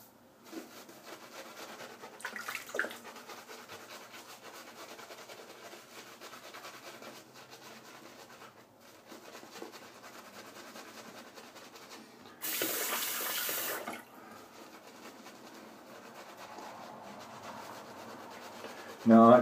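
Shaving soap lather from Columbia River soap is worked with a brush in a steady soft rubbing swish, briefly joined by a burst of running tap water midway; no one speaks.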